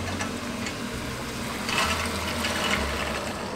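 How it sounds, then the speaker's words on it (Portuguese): Hot water pours into a pot of white beans, a steady close gush that swells louder in the second half, with no talking. "Agora a gente cobre com a água"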